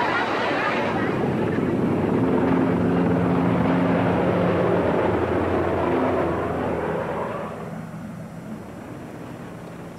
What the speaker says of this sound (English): The helicopters landed on the carriers, and there was no space.